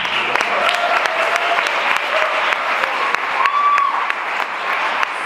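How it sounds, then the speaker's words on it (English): Audience applause at the Austin Fermentation Festival, a dense steady wash of clapping from a crowd that carries evenly for several seconds, with a few faint tonal sounds drifting through the background. "So let's just keep that applause rolling"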